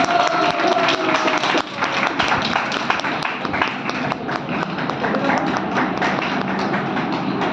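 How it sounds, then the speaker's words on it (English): Audience clapping welcomes a speaker to the podium at an education conference, a dense, busy patter of many hands that runs steadily through the clip, briefly dipping before picking back up. "I now invite Miss Ashlesha Pujara to the podium with a huge round of applause. Please continue clapping."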